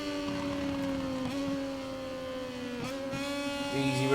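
A motorcycle engine in the MotoGP 22 racing game, a Moto2 race in Australia, holding a steady high whine with slight pitch dips as it eases into a corner, continuous and fairly close, with no talk.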